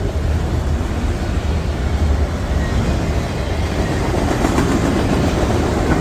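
A freight train of empty cars passes with a Kansas City Southern locomotive and a CP unit mid-train, making a loud, close, continuous rumble with rhythmic wheel clacking over the rails and no voices.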